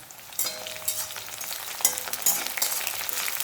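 Dried red chillies and curry leaves sauté in oil, a crackling hiss with sharp pops and stirring scrapes, close and moderately loud.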